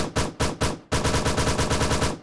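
AKM rifle firing in a video game weapon test: two single shots, then a rapid burst of about a dozen sharp, loud reports in steady automatic rhythm, close and with no talking.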